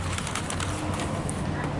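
Pigeons or doves cooing and fluttering close by at an outdoor Chipotle restaurant, soft coos under steady background noise with faint voices.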